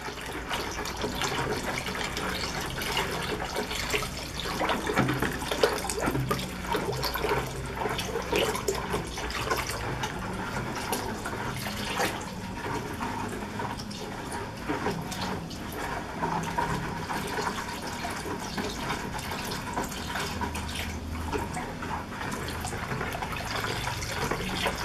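Ethanol is poured slowly into a hot homemade liquid laundry soap mixture while it is stirred, making a continuous close-up watery sloshing and trickling that runs steadily throughout with no talking.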